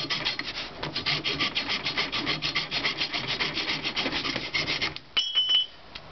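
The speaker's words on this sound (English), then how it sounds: "So all you're going to do is take a hacksaw and cut it off right there below the head." Hacksaw cutting through a fiberglass boffer pole just below the head, a steady run of rapid rasping back-and-forth strokes up close, stopping near the end with a brief bright metallic ring.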